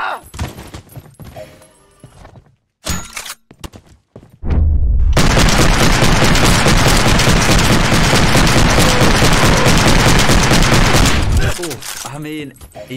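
Sustained, dense rapid-fire machine gun bursts in the shooter game Trepang2's sandbox demo, loud and continuous for several seconds, preceded by scattered single shots and brief gaps.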